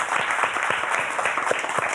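Studio audience applause on a Gomel evening television talk show, a dense, steady wash of many hands clapping together with no pauses, loud and close throughout.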